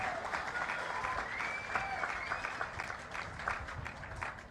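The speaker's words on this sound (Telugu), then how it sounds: "వాళ్ళందరినీ గట్టిగా చప్పట్లు కొట్టి అభినందించండి" An audience at a public event applauds together, dense sustained clapping heard from a moderate distance that continues throughout at an even level.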